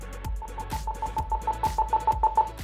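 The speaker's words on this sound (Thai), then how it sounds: "ตอนนี้เป็นเสียงเปียโนทุกคน" Piano voice on a Pastel POP Piano 61-key keyboard, a quick run of short repeated notes played up close at moderate volume, with no talking.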